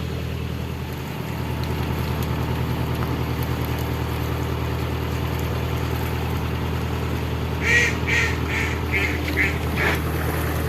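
Ducks quack in a quick burst of several calls near a narrowboat on a canal, heard over the low, steady idle of the boat's engine.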